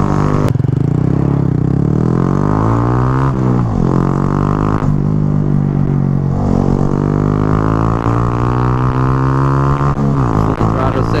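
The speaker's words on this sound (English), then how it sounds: "Full throttle second gear, full throttle third gear, and braking." Honda Grom motorcycle at full throttle, its engine note climbing in repeated loud revving sweeps, with a sharp dip at each gear change through second and third before easing off under braking.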